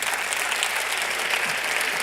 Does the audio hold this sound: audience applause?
yes